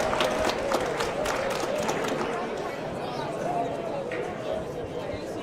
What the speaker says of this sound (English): Give them a round of applause if you would, please